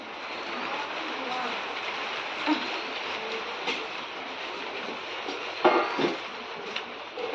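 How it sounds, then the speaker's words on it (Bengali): Sudden heavy rain pours down outside a home, a steady dense hiss running through the whole stretch with a few brief knocks and faint voices in the background. "হঠাৎ করে ঝরঝর করে বৃষ্টি পড়া শুরু হয়ে গেল"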